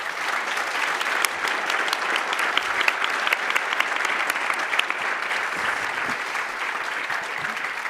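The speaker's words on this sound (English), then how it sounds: "Please give them a big round of applause." Steady, dense applause from a conference audience after a panel on AI and sustainability, sustained clapping throughout at even loudness with no talk over it.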